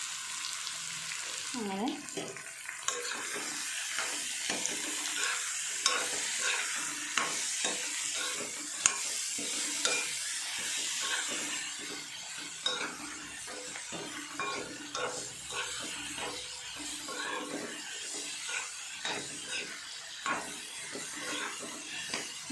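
Mushrooms frying in a pan give a steady, loud sizzle with frequent scraping stirs and clinks of the utensil, and a few spoken words are heard briefly.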